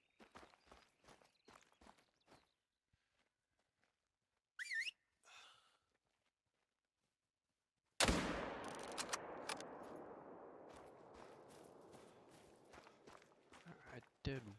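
A player whistles once, short and sharp, amid quiet footsteps while stalking game in Hunter: Call of the Wild. A louder, noisy outdoor wash follows later.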